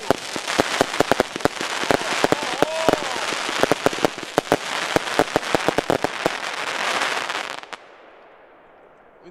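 A Pyroshow 2000-A Minerva firework battery fires 25 mm shots that are fairly weak, producing a dense rapid run of cracking bursts for several seconds before stopping abruptly into quiet.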